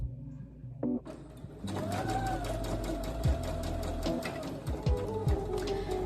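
A sewing machine stitches fabric at a 2.5 mm stitch length, starting with a few brief hums and then settling into a steady, close mechanical whir with a rapid rhythmic needle pattern.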